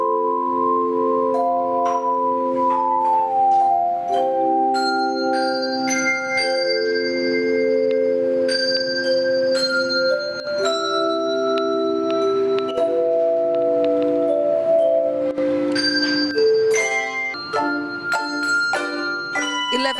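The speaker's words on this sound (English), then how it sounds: "the students play the bells and hand chimes beautifully" Students in white gloves play handbells and hand chimes at a school performance, sustained ringing tones in overlapping melodic lines that sound close and fairly loud throughout, with no talking.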